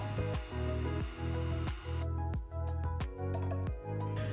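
A drill bores pre-drilling mounting holes through a newel post base, whirring in a series of short repeated bursts with brief pauses between, close and fairly quiet.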